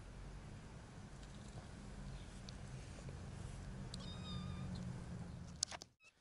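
A kitten rescued from a garbage dump gives a short, faint meow once, with a couple of brief high cries around it, over low background hum and a sharp knock near the end.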